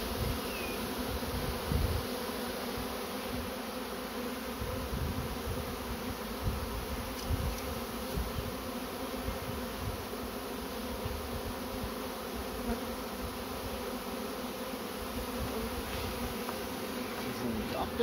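A honeybee swarm being collected in a public place hums continuously, a dense, even buzz of many insects that stays close and steady for the whole stretch.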